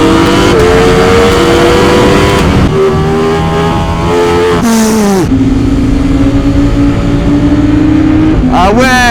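Ducati Streetfighter V4S 2024 motorcycle accelerating hard through the gears, loud and close, its engine note climbing in pitch with several sharp shifts, while riders talk over it.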